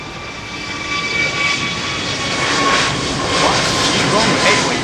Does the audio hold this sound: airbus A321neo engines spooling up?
yes